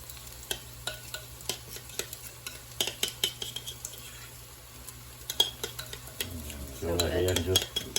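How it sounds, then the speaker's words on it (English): Marinade for Indian butter chicken goes into a hot pan, sizzling softly under repeated scraping and clinking of a utensil stirring, with a louder burst of sizzle near the end. "I'm going to add that marinade that I was talking about."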